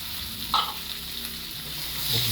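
Corned tuna sisig fries in a pan while being stirred, giving a steady sizzle with a few scraping stir sounds. The sound stays at a moderate level up close with no talking.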